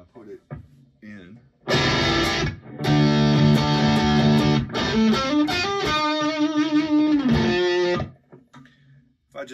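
A heavily distorted electric guitar through a Herzog tube distortion pedal plays sustained chords and a bending lead line for several seconds, loud and saturated, with brief quieter moments before and after.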